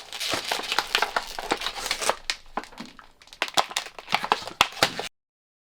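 Plastic packaging from a hardware store torn and crinkled open by hand without scissors, close-up irregular crackles and crunches in quick bursts, with a short pause midway.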